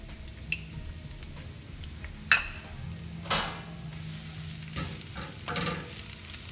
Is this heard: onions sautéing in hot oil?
yes